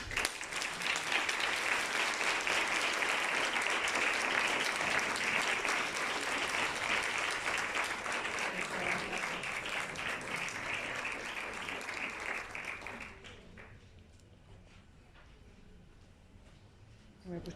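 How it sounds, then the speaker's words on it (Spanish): A large audience breaks into sustained, dense applause that holds steady for about twelve seconds, then drops away to a quieter background with a few lingering claps. "Pues desde aquí ahora nuestro aplauso va para Candela, va para Sergio, va para ti,"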